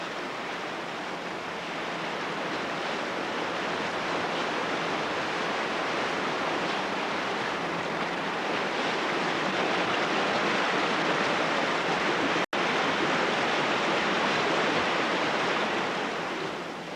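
Water rushes steadily over limestone rocks, a continuous broadband wash of flowing water with no pauses, fairly loud and close throughout, with no voices.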